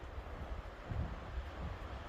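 Soft, steady wind buffeting the microphone outdoors on a hike to Shoshone Lake in Yellowstone, a faint low rumble with gentle gusts.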